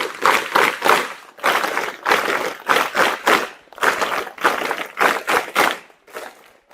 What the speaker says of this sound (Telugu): teacher clap ready go